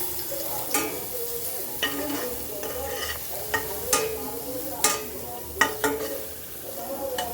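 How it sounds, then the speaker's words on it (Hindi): Chili and garlic fry in hot oil with a steady crackling sizzle, broken by sharp spatters and stirring clinks spread across the whole stretch, close and moderately loud with no talk. "और तेल गरम हो चुका है। अब इसमें ये मिर्च और लहसुन डाल के अच्छे से थोड़ा सा गोल्डन फ्राई"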